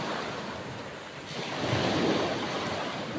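Sea waves wash onto the black sand beach at Bagac, Bataan, in the early morning, a close, continuous hiss of surf mixed with wind, swelling slightly midway as a wave breaks and rushes in.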